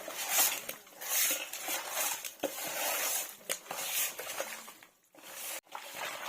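Raw chicken pieces being hand-mixed with spices in a vessel for biryani produce close, wet squishing and soft slapping with faint clinks of the container, in uneven bursts with brief pauses.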